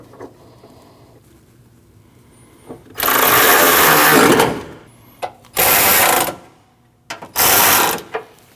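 A ratchet tightens the washer reservoir bolts on a 2012-2021 Nissan NV2500, three loud close bursts of rapid clicking, the first about a second long and the next two shorter, separated by quiet gaps with faint handling noises.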